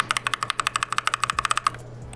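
Gateron Yellow mechanical keyboard switches typed in a fast, even run of about twenty crisp clicky-thock keystrokes, close up, then quiet.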